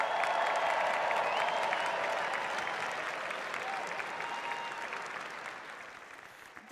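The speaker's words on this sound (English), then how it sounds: "Everyone give them a round of applause." A large crowd at an awards gala applauds the standing nominees, a steady wash of clapping that holds strong and slowly fades a little over several seconds.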